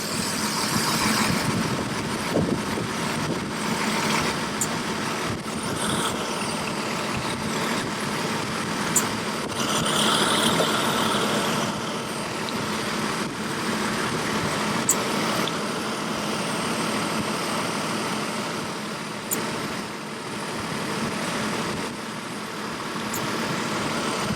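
A Chevrolet Trailblazer engine idles with its air-conditioning compressor running: a steady, even mechanical drone and hiss that holds for the whole stretch, close by, with a few faint ticks and no talk.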